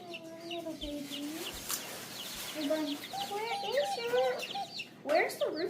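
Chickens cluck and chirp close by, with repeated short trilling calls and murmured clucks that grow busier toward the end, while a person talks quietly over them.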